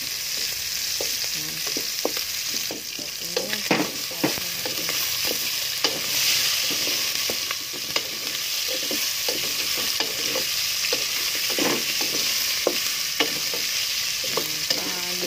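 Onion and other ingredients sizzle and fry steadily in a hot pan for jackfruit nilaga, with repeated scraping and stirring strokes close by throughout.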